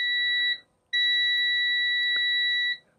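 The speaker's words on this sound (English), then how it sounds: "if you get a beep just like this" Two clear electronic beeps from a multimeter continuity test, a short one then a longer sustained tone of about two seconds, steady pitch, close and alone.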